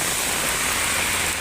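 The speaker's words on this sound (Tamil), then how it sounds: "டெல்லியில் அதிக அளவு மழை பெய்யுது." Heavy rain pours down in Delhi as a loud, dense, steady hiss of water on surfaces, with no pauses and nothing else audible.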